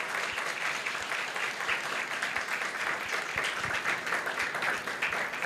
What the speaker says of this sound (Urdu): جتنے بیٹھے ہیں وہ سب ان سب کے لیے تالیاں بجائیں